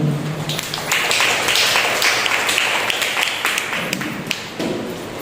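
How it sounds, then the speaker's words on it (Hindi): Church congregation claps loudly for a birthday during a Sunday morning service, a dense burst of applause with sharp taps that holds steady, then thins briefly near the end. "आशीष अभिषेक के लिए जोरदार तालियां हो जाए"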